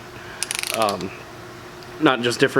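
Milwaukee M12 Fuel 1/2 inch drive electric ratchet running in two short bursts, each with a quick clicking start and a rising whir, loud and close with no talk.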